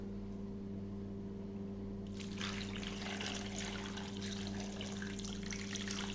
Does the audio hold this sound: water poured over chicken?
yes